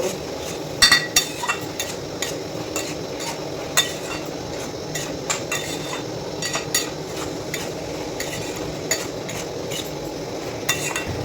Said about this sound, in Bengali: ঢাকাটা খোলার পরে একটু নেড়ে নিব